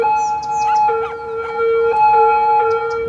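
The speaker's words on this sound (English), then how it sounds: "With lots of loud sirens is how it works." Loud sirens wail in the city-building game Cities: Skylines, steady tones layered with rising and falling whoops and chirps from several emergency vehicles at once, with no talking.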